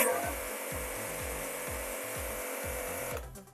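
An Autopramie AP-JC 8500 jet cleaner with a turbo nozzle runs as a loud, steady motor hum and spray hiss, pulsing low in a regular beat of about one and a half per second, then cuts off near the end.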